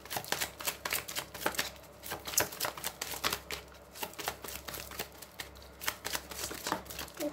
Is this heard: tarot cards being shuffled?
yes